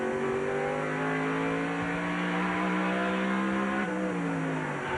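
A NASCAR race car engine holds full throttle without a lift, a loud sustained high drone with steady harmonics that shift slightly in pitch near the end.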